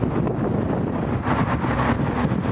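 Outdoor wind buffets the microphone as a continuous, loud, low rumble with uneven gusting and no clear pauses.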